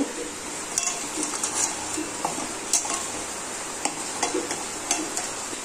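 Mashing chhena cottage cheese with salt, turmeric, sugar, chilli powder and cornflour by hand in a bowl, producing soft, steady squishing with occasional light clinks against the dish, close up.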